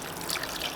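Beef or chicken broth, about two cups, trickling and pouring steadily into a crock pot alongside a chuck roast, a soft continuous liquid splash heard up close with no talking.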